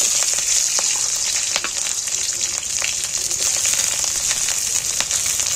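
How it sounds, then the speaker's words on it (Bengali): Onions dropped into hot oil in a pan give a dense, loud, continuous sizzle with crackling spatter throughout, close up and with no voices. "এবার আমি পেঁয়াজগুলো তুলে দিচ্ছি"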